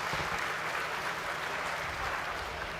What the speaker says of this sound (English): Let's give a big round of applause to all our dual degree graduates